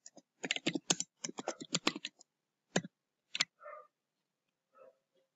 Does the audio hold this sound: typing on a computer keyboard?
yes